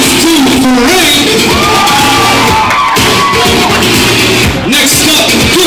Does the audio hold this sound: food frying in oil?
no